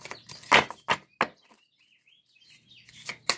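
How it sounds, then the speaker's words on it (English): A small finch sings outdoors, giving a few faint, brief high chirps in short bursts between louder clatter and knocks nearby. "You hear that little finch out there singing?"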